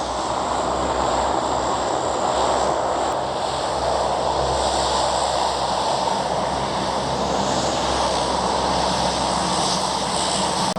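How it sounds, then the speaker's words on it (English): A military plane takes off from Taipei Songshan Airport, its engine roar loud, dense and continuous, heard from nearby along a plane-spotting street, with wind noise mixed in and no talking. "See this military plane take off?"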